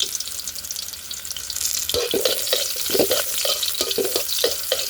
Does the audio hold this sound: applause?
no